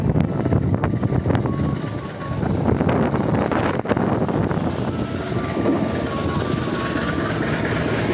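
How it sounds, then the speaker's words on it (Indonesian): Bengawan economy train on track 9 at Cirebon Prujakan station, hauled by locomotive CC 2017713, gives a steady, loud rumble of rail and engine noise with wind buffeting the microphone throughout. "Ini sudah terlihat di jalur 9 stasiun Cirebon Perujakan, kereta api Bengawan"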